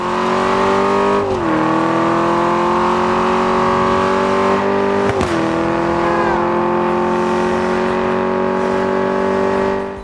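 Steady, loud Alfa Romeo 8C engine drone in the video game Test Drive Unlimited Solar Crown, holding a mostly constant pitch, with a couple of brief gear-shift dips, alone without speech.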